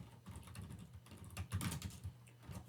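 Typing Arduino code on a computer keyboard, a steady patter of close key presses running continuously through the short stretch with no talking.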